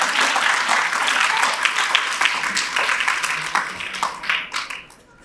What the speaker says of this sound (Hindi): आप सब ताली बजाकर उनका स्वागत करिए।